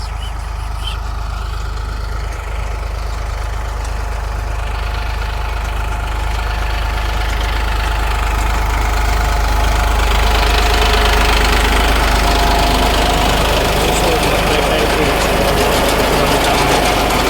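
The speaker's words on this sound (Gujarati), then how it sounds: "તો જોઈ શકો છો કે સારું ટ્રેક્ટર ચાલુ જ છે." A tractor engine runs steadily while pulling a new peanut digging machine in a farm field, a loud, continuous rumbling drone with a knocking quality that stays constant and close throughout, with no talk over it.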